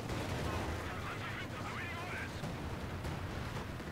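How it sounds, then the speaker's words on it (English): Artillery barrage in Company of Heroes 2 as Elite Armor shells rain down: dense, continuous booming and crackling gunfire filling the whole stretch at steady loudness, with faint game voices mixed underneath. "That was artillery from Elite Armor."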